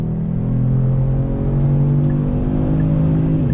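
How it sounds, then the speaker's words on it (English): A 2021 Kia Stinger GT AWD with a twin-turbo engine accelerates from a roll, its engine note rising in a loud, steady drone heard from inside the cabin, with no one speaking. "the twin turbos get to work and really just project you down the road very nicely"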